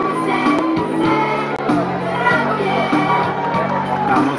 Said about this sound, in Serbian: Molim vas jedan aplauz za najmlađu sportsku ekipu na svijetu.